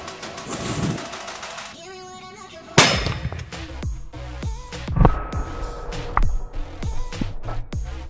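A loud firecracker bang is followed by a rapid string of sharp pops and crackles, irregular and close, after a brief hiss beforehand.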